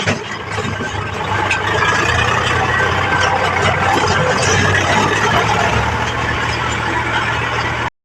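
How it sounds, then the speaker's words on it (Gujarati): Three tractor engines idle together on a farm while soil is being filled, a steady loud low rumble with a continuous hum and some high squealing, running without break throughout. "આપણી વાગે 3 ટ્રેક્ટર હાલે છે"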